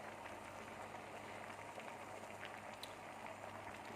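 Mushroom curry boiling in a pot, a steady bubbling and gentle popping that carries on without a break, close and fairly faint.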